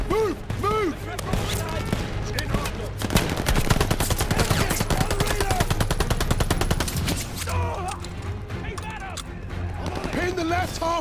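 Machine-gun fire in the Call of Duty Vanguard wartime campaign rattles in a long, dense burst of rapid shots, with shouted voices over battle noise before and after.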